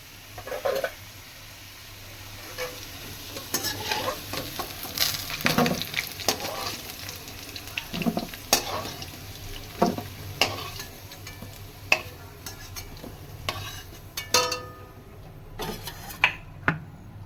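Potatoes fry in hot oil with a steady sizzle, broken by repeated sharp scraping and stirring clatters from a utensil, close up, with no talk.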